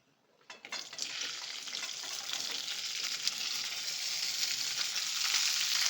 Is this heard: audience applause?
no